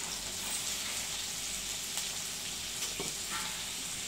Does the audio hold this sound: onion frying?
yes